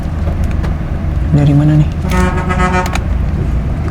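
Volvo B11R bus horn honking in a short burst and then a longer harmonic blast, with road noise and traffic underneath on a highway in Sumatra, someone speaking briefly over it.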